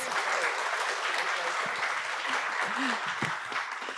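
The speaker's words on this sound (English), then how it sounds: "Please give them a round of applause." Round of applause from a panel audience at an Asia Society event at the Sundance Film Festival, steady dense clapping throughout with faint voices beneath.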